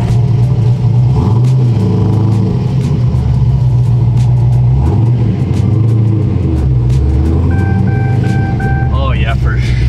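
A C6 Corvette fitted with racing slicks pulls away, its engine rumbling and revving loudly up close, with people talking over the engine noise throughout.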